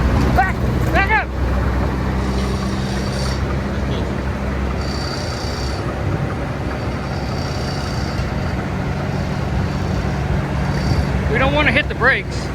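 Combine harvester engine runs steadily as it drives, a loud continuous low rumble with wind buffeting, and people talk briefly over it near the start and end.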